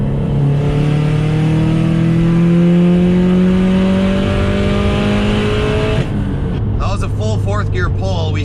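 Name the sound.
Subaru STI engine accelerating during a fourth gear pull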